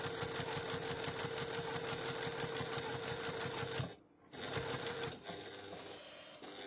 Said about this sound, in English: then I can just judge where I'm sewing to